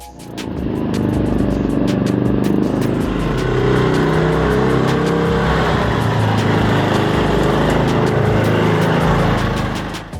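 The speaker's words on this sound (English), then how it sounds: "And here comes a compact yet lively hot rod." A compact mini hot rod car's engine roars loudly and steadily, revving with a rough, buzzing rattle for about ten seconds before easing off at the end.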